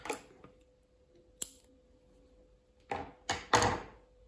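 Scissors snip crochet yarn close by, with a few crisp cuts and rustles, mostly clustered near the end after a quiet stretch.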